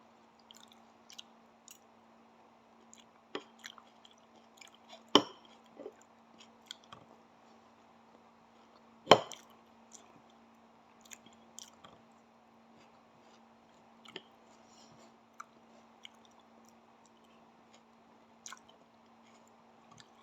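Close, soft chewing of boiled egg and tomato, with scattered wet squishes and a couple of sharper bites against a low steady background hum.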